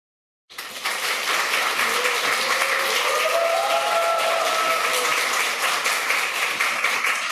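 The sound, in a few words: applause in church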